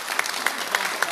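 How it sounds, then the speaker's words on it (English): Audience applause at a public forum on MA63 and related laws, a steady wash of clapping from a crowd with a few sharper claps standing out at regular moments, filling the whole short stretch. "Please give him a round of applause."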